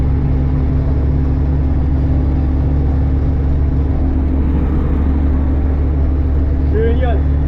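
A Mercedes 406D van with a swapped 90 hp diesel engine and five-speed gearbox cruises in fifth gear at about 60–70 km/h, giving a loud, steady low rumbling drone throughout, with a brief faint sound near the end.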